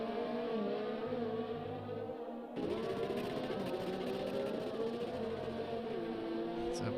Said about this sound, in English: It's a weird gearbox glitch.